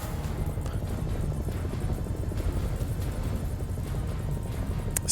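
A helicopter in the video game House of Ashes gives a loud, steady, throbbing rotor and engine roar that stays constant throughout.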